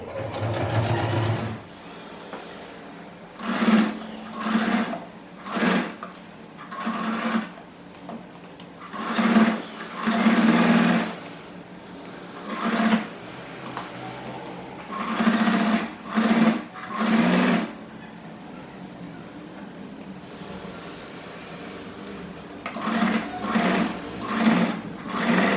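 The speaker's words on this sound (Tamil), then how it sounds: "இந்த ரோ ஃபுல்லாக நான் தைச்சிருக்கேன்." Sewing machine stitching rows on a table mat made from old jeans: repeated short whirring runs of a few seconds each with brief pauses between, close and clear, no talk.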